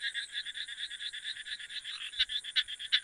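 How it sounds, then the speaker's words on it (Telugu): Frogs croaking near a pond at night, a dense, steady chorus of rapid rhythmic calls carrying on throughout, with a few louder, closer croaks standing out toward the end. "చూడండి కప్పలు బెక్క అని అరుస్తున్నాయి"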